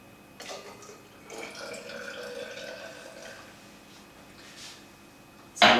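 Water pours into a layered density column sitting on maple syrup and dish soap, a soft trickling splash lasting a few seconds, quiet and close, ending with a sharper clink.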